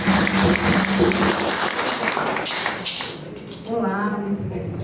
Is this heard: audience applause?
yes